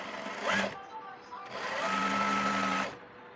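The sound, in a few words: sewing machine stitching a pajama hem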